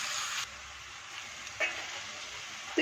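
Tomatoes with a pinch of salt hit hot oil in a pan for palak paneer, giving a bright close sizzle that drops back to a softer steady hiss, with two brief stirring scrapes.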